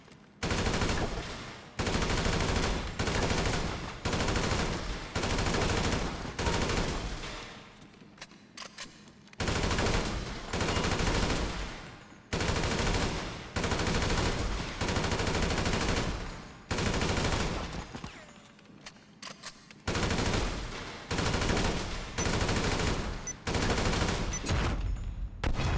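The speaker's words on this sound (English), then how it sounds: "Get out of here with the submachine guns." Submachine gun fire in a video game, rapid sustained bursts of automatic shots, loud and close, repeating in long volleys with brief pauses between them, no talk.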